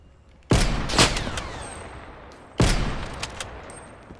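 Two sharp, loud shotgun blasts roughly two seconds apart in Black Ops Cold War, each with a ringing decaying tail and faint mechanical clicks between.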